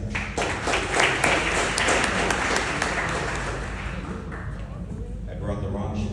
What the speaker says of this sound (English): Big round of applause for Senator Gianaris